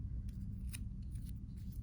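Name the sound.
sharp scissors trimming along a fabric edge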